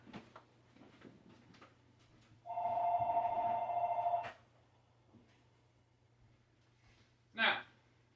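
A telephone rings once in a steady two-second trill over a low background hum, while a voice talks quietly nearby and a sharp clack follows a few seconds later.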